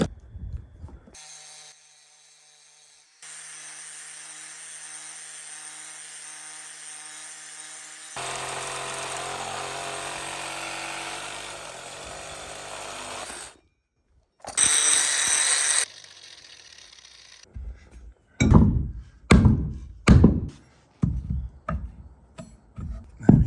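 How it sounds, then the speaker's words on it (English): A grinding wheel sharpens the end of a drill bit, first a steady whining hum that stops and restarts, then a brief louder burst, followed by several sharp scraping contacts of metal on the spinning wheel. "Let's see if this grinding wheel works."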